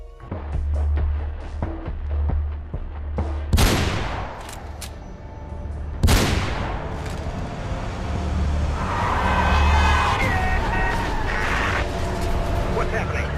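Sniper rifle shots in a video game aimed at an orange billboard: two sharp, loud cracks a few seconds apart cut over a low engine-like drone, with a person talking and lingering game ambience afterward.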